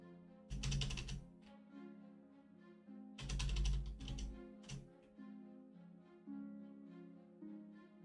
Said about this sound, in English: I'm assuming at this moment that Sparta is typing a novel